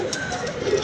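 Pigeons cooing and fluttering nearby, soft low coos repeating steadily through the short moment with light bird activity.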